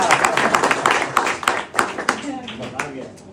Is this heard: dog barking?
no